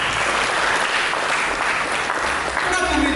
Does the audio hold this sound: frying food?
no